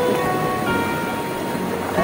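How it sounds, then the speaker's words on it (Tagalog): A strong river current rushes in a steady, loud, close wash around someone bathing in the water, with faint voices in the background. "Grabe talaga, ang lakas ng agos mo."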